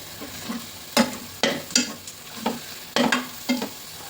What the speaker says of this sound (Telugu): వీటన్నింటినీ మంచిగా మిక్స్ చేసుకోవాలండి.